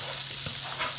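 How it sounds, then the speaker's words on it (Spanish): Butter melting and sizzling in a pan with garlic, cooked over three-quarter heat for garlic green beans; a steady, close frying hiss with a few soft pops runs through the short moment, with no talking. "mientras se derrite la mantequilla, le voy a agregar también todos los ejotes"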